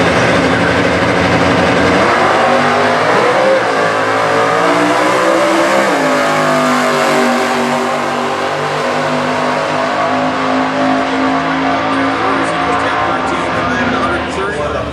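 Drag racing cars at a Stock Eliminator event, including a 2004 Pontiac GTO, rev and idle loudly at the staging lanes, engine pitch rising and falling in a continuous roar while an announcer talks over it.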